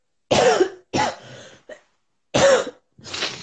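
Several separate coughs with a short throat-clearing, close and fairly loud, coming in uneven bursts with silent gaps between them.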